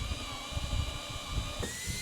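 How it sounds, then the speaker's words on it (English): A power drill bores a hole for wiring through a kayak hull, a steady whining hiss with uneven grinding bursts underneath, close and continuous for about two seconds. "I'm going to drill that out so these wires can go through that"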